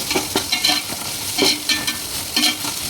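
Ginger-garlic paste stirred into chicken and onions frying in a pan for akhani pulao, a spoon scraping in repeated rhythmic strokes over a steady close sizzle, with no voices.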